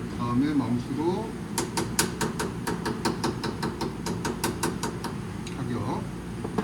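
A hammer strikes a metal workpiece, roughly 24 mm thick stock, clamped in a vise: a run of about a dozen sharp, evenly paced metallic blows, close and crisp, with a brief voice before them.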